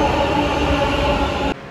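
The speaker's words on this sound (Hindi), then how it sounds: "ये जो आप सामने ट्रेन देख रहे हो राजधानी एक्सप्रेस" Rajdhani Express train passing close by, a loud steady rumble of wheels and carriages on rail that cuts off abruptly near the end, leaving quieter background.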